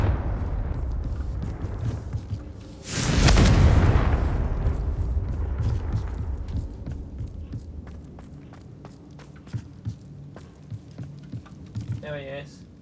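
A Confringo fire spell in the game Hogwarts Legacy bursts into a loud, broad blast about three seconds in, rumbling for roughly a second before fading into quieter ambient game sounds with scattered clicks and steps.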